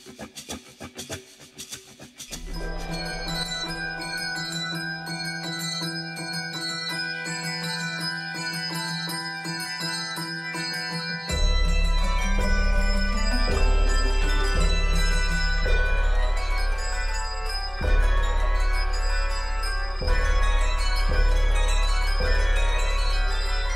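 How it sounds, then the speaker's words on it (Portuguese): Metal bells ring with a sustained main note and shimmering overtones, steady and fairly loud, thickening midway as deeper, fuller tones join the ringing. "Os sinos são feitos de metal e produzem uma nota principal com sons secundários."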